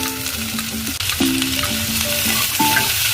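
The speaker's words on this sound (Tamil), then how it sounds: "ஆனியன் அண்ட் பிரிஞ்சால இந்த மாதிரி கொஞ்ச நேரம் சாட்டே பண்ணி விடலாம்." Onion and brinjal sauté in hot oil for a brinjal roast, a loud close sizzle with repeated stirring scrapes and utensil clinks over a few seconds, no talking.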